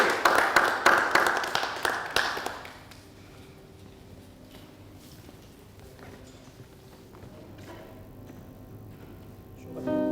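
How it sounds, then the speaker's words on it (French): Audience applause for a slam poet on a TV variety show, a loud burst of rhythmic clapping that stops after a few seconds, followed by a quiet room and then a music note rising at the end. "Merci de l'applaudir bien fort."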